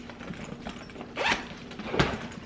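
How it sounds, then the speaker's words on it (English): The zipper on a Beis weekender bag is pulled open in two short close rasps about a second apart, with no talking. "there is a little zipper on this bottom area. There is a double zip. And when you unzip it"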